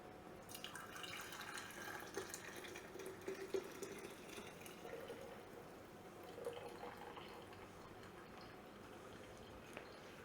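Homemade chicken stock poured through a very fine strainer and canning funnel into a mason jar, a steady faint trickle and drip of liquid throughout with no talking.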